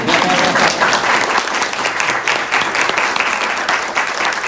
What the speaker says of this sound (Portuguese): vamos Helena. aplaudir para a mamãe